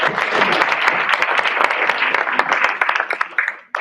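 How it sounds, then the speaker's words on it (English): Hands clap for Bernie at a PARC amateur radio club general meeting, a dense, steady round of crowd applause filling the room for nearly four seconds before cutting off abruptly at the end. "hands, applause to Bernie for figuring out all of it"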